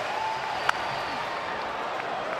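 A baseball stadium crowd at a St. Louis Cardinals at Chicago Cubs MLB game keeps up a steady, roaring cheer from a distance, broad and continuous with no break.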